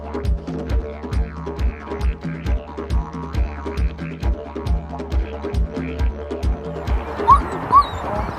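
Police dog on a roughly 50-metre recall during squad training, with soft yips and whimpers over a steady rhythmic low thumping that runs throughout, fairly close and moderately loud.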